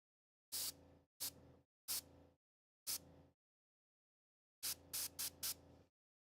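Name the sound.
airbrush spraying paint for blending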